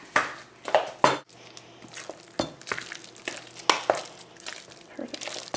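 Green bell pepper guacamole stirred in a bowl, giving scattered close clinks and scrapes of utensil against dish in an irregular rhythm, fairly quiet, with no voices.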